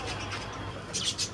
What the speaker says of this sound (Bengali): বদ্রি পাখি।